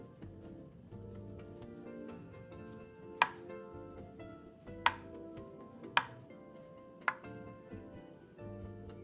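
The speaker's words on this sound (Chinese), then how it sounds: "再将豆腐切成小块。" A knife chops tofu into small pieces on a board: four sharp, separate strikes about a second apart, close and clear over a quiet kitchen background.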